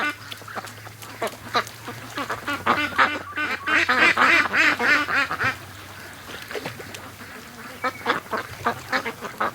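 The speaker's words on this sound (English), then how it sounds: "That's a mess of ducks went out there." Free-range ducks out on a lake quacking in a noisy flock, dense overlapping calls swelling in the middle, with a steady low hum underneath.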